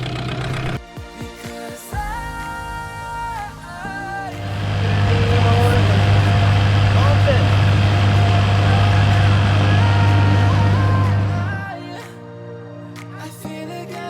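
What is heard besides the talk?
dinghy outboard motor running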